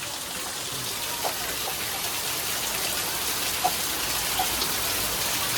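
Heavy rain pours during a nighttime storm in Patan, a steady dense hiss of downpour with a few faint drips standing out, continuous and close with no voices.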